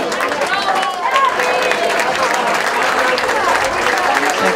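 Crowd at a youth football tournament award ceremony applauds the Olbia team, with dense, steady clapping mixed with crowd babble throughout, loud and close.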